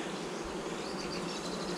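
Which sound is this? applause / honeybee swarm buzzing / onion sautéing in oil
honeybee swarm buzzing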